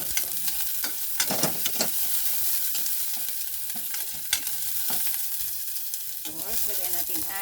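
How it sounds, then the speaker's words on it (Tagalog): Onion frying in a pan with a steady, close sizzle and scattered crackles, plus stirring scrapes that come and go throughout with no talking. "Isa natin si sibuyas."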